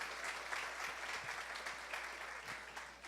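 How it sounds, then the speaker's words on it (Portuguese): A crowd claps steadily for a speaker at a digital marketing event in Brazil, a dense, even patter heard at moderate distance for a few seconds without a break. "Só uma palmas, né, para a Júlia,"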